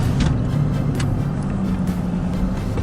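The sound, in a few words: road traffic, cars passing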